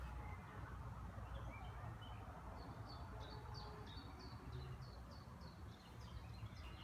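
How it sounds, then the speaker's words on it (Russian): Small birds chirp in quick repeated high notes over a constant outdoor rumble, fairly faint and steady throughout. "Птички щебетают."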